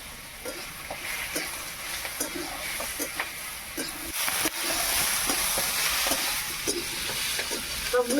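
Chopped spinach, potato, carrot and beans sizzle in a pan, with rhythmic clicks and scrapes as they are stirred close to the microphone. A hiss swells partway through.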